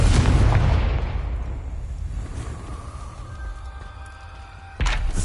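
A Confringo fire spell in Hogwarts Legacy explodes with a loud, deep boom that decays over several seconds into a rumbling tail, then a second sharp impact lands near the end.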